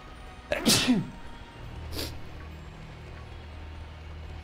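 A single sharp human sneeze bursts out close by, followed a second later by a brief softer exhale or sniff over a low, steady background hum.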